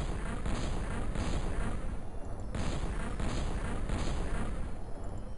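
Soldiers firing in the XCom video game, a steady rumble of gunfire and blasts with a few sharper shots standing out, loud and continuous without talk.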